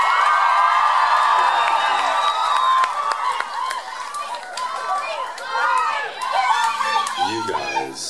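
A concert crowd at a show in Oxford cheers and whoops loudly, with shouts and excited voices fading into chatter.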